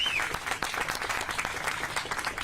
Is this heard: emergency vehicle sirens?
no